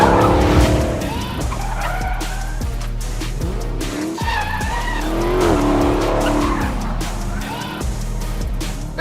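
Dodge Challenger SRT Hellcat sliding sideways with its tires squealing loudly and continuously in wavering howls over a deep engine roar, close and dense throughout.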